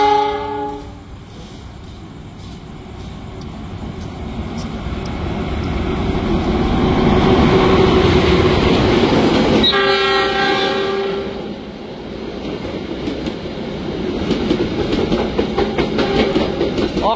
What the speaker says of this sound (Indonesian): kita bersilang dengan kereta api Gumarang dari Surabaya Pasar Turi tujuan akhir Pasar Senen